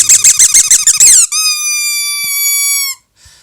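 A squeaky apple-shaped toy squeaks in a quick burst of about ten rapid squeezes, then lets out one long, loud, sustained wheeze as it deflates, followed by a faint final squeak.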